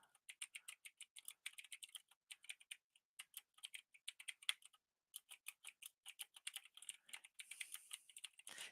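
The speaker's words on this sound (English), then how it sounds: "I'm typing it right now." Rapid typing on a computer keyboard, close and crisp, with a brief pause midway and no talking.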